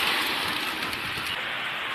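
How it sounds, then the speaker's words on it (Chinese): Heavy downpour on a flooded city street in Luohe, Henan, a steady dense hiss of rain with a faint low rumble of traffic beneath, continuous and fairly close throughout. "今天早上呢又下起了瓢泼的大雨，街面上啊也是水流成河。"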